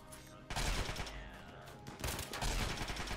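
Dense bursts of rapid gunfire in the game RimWorld, loud overlapping volleys with a brief lull in the middle before the barrage resumes.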